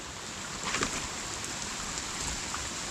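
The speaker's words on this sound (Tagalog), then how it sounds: "at kami po inabot na lang malakas na ulan" Dense, steady hiss of heavy rain pouring down, with a few brief louder spatters mixed in.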